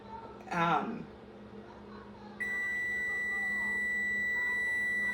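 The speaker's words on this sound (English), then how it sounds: "That's the timer for the 10 minutes." A kitchen timer beeps steadily and close by while apple butter pie tarts bake, a continuous bright electronic tone that starts partway through and holds to the end after a brief clatter.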